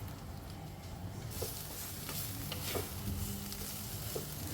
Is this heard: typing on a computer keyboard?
no